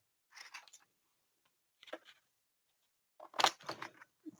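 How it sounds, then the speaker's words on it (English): Scissors miter-cutting a paper hinge for a craft page: three short, quiet, close snipping sounds spaced apart, with near silence between the cuts. "I know I need to miter cut the hinge"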